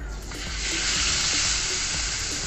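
Spice paste sizzles loudly in hot oil in a wok as seafood noodles (mie tiaw) are fried, a steady, close, dense hiss that swells and holds throughout.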